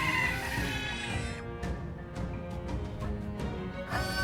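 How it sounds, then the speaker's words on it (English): Strange birds cluck and squawk in the Metaphor: ReFantazio video game, a steady run of fowl-like calls over a dense game soundtrack, with no voices. "Is this one of the strange birds we heard about?"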